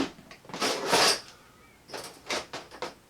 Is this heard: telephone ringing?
no